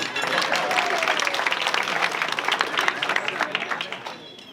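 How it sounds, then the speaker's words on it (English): A banquet crowd at a church convention applauds: dense, sustained clapping from many hands fills the room, with a few voices mixed in, tapering into sharper scattered claps toward the end. "You can applaud yourself if you want."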